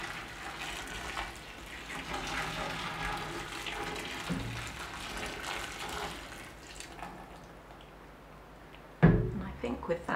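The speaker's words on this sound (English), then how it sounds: "I'm going to add one more kettleful of boiling water" Boiling water from a kettle pours into a dye pot for eucalyptus dyeing, a steady running, splashing wash that lasts most of the stretch, with speech over it and a louder clunk near the end.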